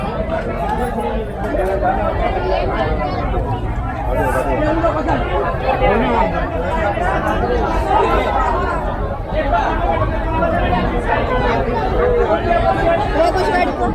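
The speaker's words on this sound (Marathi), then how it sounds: "हे जेवढी गर्दी आहे ना बापरे जबरदस्त" Dense crowd chatter fills Sassoon Dock fish market in Mumbai, a steady loud babble of many overlapping voices with no pauses throughout.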